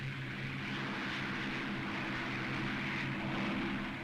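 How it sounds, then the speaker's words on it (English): A Supermarine Spitfire engine roars steadily at full throttle during take-off and climb, a loud, close, even drone with a low droning hum and no talk. "Now the take-off. Throttle right forward."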